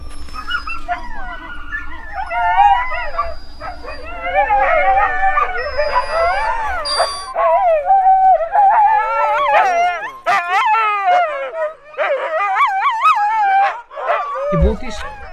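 Sled dogs howling, yipping and whimpering together, a loud, busy chorus of rising and falling wails and sharp barks close by, thinning briefly before a final low bark.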